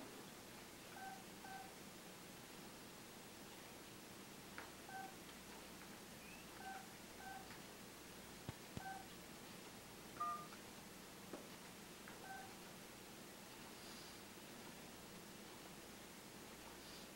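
Telephone keypad tones sound while dialing into voicemail: a series of short, clear beeps at irregular intervals over a faint hissy line background, with no voices.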